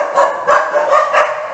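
Several dogs barking in a rapid rhythm of repeated close, loud barks, heard alone with no talk.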